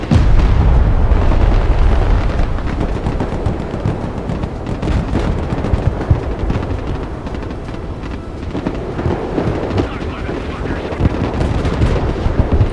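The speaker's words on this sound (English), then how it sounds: "Airstrike complete." Airstrike explosions in the Broken Arrow war video game roar as a loud, continuous rumbling barrage, with heavy low booms and crackling bursts layered over one another, strongest at the start and sustained throughout.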